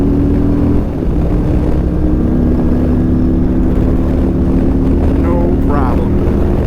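Harley-Davidson Road Glide motorcycle engine pulling hard on a highway while merging into traffic, a loud steady drone with rising rumble and constant wind roar close to the rider.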